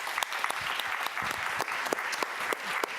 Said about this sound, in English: let's give Dr. Lerman another round of applause